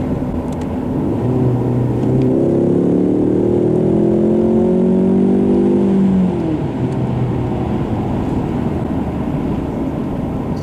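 A 2015 Ford Mustang EcoBoost in sport mode pulls hard through paddle-shifted gears, its engine note rising in steady sweeps over continuous road and wind roar, then dropping back to a steady cruising drone.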